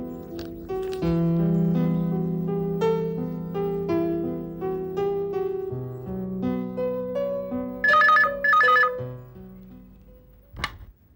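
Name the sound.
telephone ringing while placing a call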